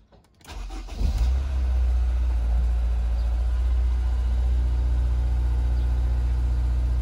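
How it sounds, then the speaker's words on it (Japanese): A used Honda S2000 AP1 fires up with a brief cranking whir, catches with a quick rev, then settles into a steady, close, low idle rumble that continues uninterrupted. "ちょっとエンジンかけてみましょう。"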